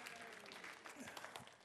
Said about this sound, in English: give Kevin a clap